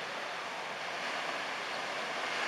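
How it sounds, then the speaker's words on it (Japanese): Dense, continuous roar of tsunami water surging over a seawall during the 2011 Great East Japan Earthquake, a steady wash of broadband noise heard from some distance, with no talk. "ついに堤防を乗り越えて津波の第二波が来ました。"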